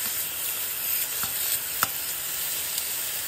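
Beef steak sautéing on high heat in a Salad Master pan, giving a steady, close sizzle with a few sharp pops and crackles throughout.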